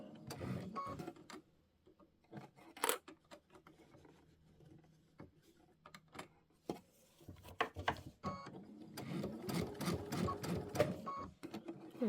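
A sewing machine stitching a quilt with a scalloped border, close and fairly quiet, running in short uneven bursts with pauses, then a longer busy run of rapid stitching near the end.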